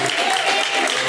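A church congregation claps joyfully for Jesus at a live service, a brief burst of dense, bright clapping with a faint murmur of voices underneath.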